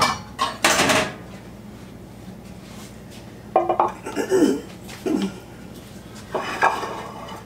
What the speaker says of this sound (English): Let me get my pan.